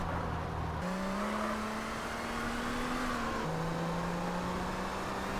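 A car engine in GTA San Andreas drones steadily and loudly, pitch climbing slowly as it accelerates, then dropping with a gear shift and climbing again, with no talk over it.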